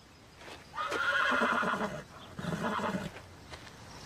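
A horse gives two loud whinnies in quick succession, each lasting under a second, with faint hoof clops in between and after, close and clear.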